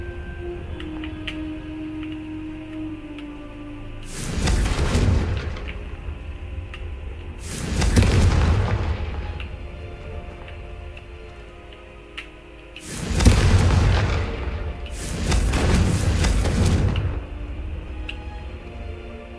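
Confringo fire spells cast in the Hogwarts Legacy video game, four loud broad whooshing bursts about a second or two long, separated by quieter gaps over a steady game ambience.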